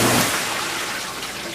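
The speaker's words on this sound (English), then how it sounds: "we got a leak. The water pouring out the side." Water streams and splashes out the side of a vintage KitchenAid Superba dishwasher door, a steady broadband rush that starts loudest and stays close, with no talking.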